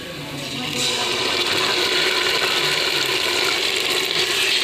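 Spices sizzle and fry in hot oil with browned onions for a garlic curry, a loud, steady hiss that swells in the first second and then holds without a break.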